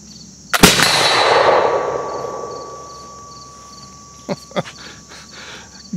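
An 18th-century civilian smoothbore gun fires a patched round ball at a target 50 yards away: one loud blast with a long rumbling decay, then two faint clicks, over a steady hum of outdoor insects.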